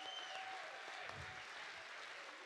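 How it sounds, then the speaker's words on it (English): Faint, steady applause fills a school chorus concert hall as the audience claps for the band and upper school chorus, with a whistle near the start. "Let's give one more round of applause to our band and our upper school chorus"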